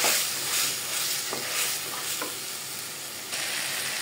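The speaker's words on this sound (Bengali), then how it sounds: "চালটা একটু ভাজি করে নিব আমি" Washed rice and lentils fry in a pan with cooked-down spice paste for bhuna khichuri, giving a steady close sizzle with a few scraping stirs throughout and no voices.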